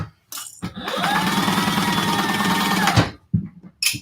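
A sewing machine stitches the bottom seam of a fabric crossbody bag in one steady, close, loud run of about two seconds, stopping abruptly, with brief handling noises before and after.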